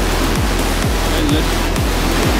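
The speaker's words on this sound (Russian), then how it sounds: "Вода вон такая бурная. Холодно. Водопад!" Loud, rushing water roars continuously from a powerful waterfall in the Chegem Gorge, Kabardino-Balkaria, a dense steady hiss with a faint rhythmic low thumping underneath.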